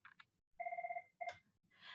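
A phone rings during a talk on cardiovascular health, giving a faint warbling electronic ring tone in two short bursts amid quiet room sound, with no speech over it.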